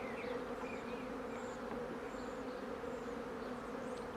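A honeybee colony hums in a steady, dense drone during a hive inspection, a close, continuous buzz with individual bees whining past now and then.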